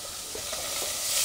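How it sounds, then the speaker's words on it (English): Onions sizzle in warm oil as a wooden spoon stirs them, a close, steady frying hiss with soft scraping strokes. "You get the wooden spoon and give it a stir."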